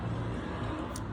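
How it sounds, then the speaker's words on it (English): Cars pass outdoors on a sunny Florida morning, producing a steady moderate traffic rumble with a brief higher hiss near the end, no voices present. "cars passing"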